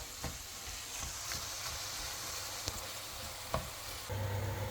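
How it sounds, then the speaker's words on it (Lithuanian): Meat fries with onions and garlic in a Xiaomi smart multifunctional rice cooker, a soft, steady sizzle with occasional scrapes and taps of stirring, fairly quiet and close, with a low hum joining at the end. "Mėsą kepa, dabar dedam svogūnus su česnakais."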